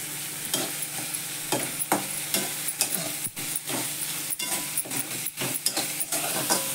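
Chopped onion sizzles in a pan with turmeric and salt while a spoon stirs it, the steady frying hiss broken by repeated scraping and knocking strokes against the pan, with no talk.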